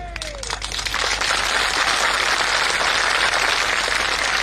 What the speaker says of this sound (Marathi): ह्या आपल्या टाळ्या वाटत नाही,